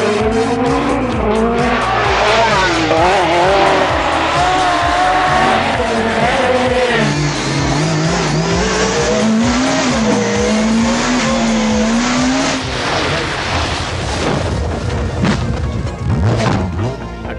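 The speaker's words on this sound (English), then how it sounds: "A classic rally accident, steering hard over, wheels locked up, heading straight off." A 1980s Group B rally car sliding off course with its wheels locked, engine roaring loud and close while a long skidding screech wavers and rises over a continuous rushing din.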